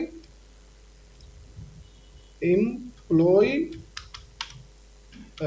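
Keys are typed on a computer keyboard while entering data into an Excel spreadsheet, with soft taps and a few quick click runs. Someone talks in Hindi in short bursts between them.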